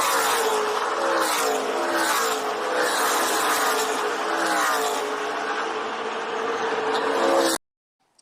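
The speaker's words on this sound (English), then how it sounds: "And you could see some of these cars just really sliding out." Race cars sliding out on a track, including one swinging its rear almost like a drift; a loud, continuous engine roar with rising and falling revs lasts several seconds, then cuts off abruptly.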